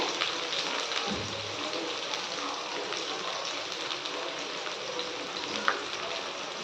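Onions sauté with crushed ginger and garlic in a pan for a meal maker gravy, giving a steady, close sizzling hiss throughout with an occasional soft clink.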